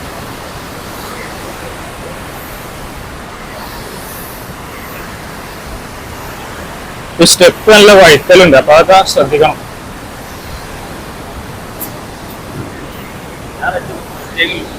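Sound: water rushing forcefully near a dam

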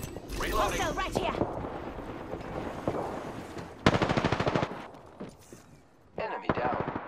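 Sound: gunfire from the video game Apex Legends

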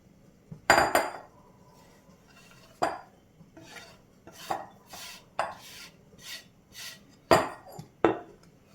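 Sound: chopped cabbage being moved into a bowl

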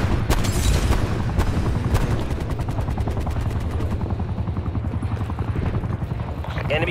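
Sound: attack helicopter and gunfire in Call of Duty video game

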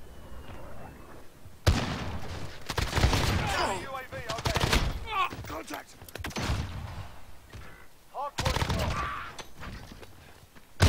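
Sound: Holger-26 gunfire in video game Call of Duty: Modern Warfare

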